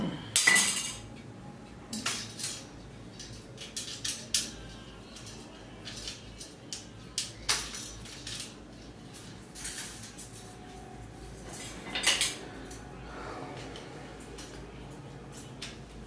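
Steel plates and utensils clink and clatter intermittently on a kitchen rack, a scattering of sharp metallic knocks with quiet stretches between.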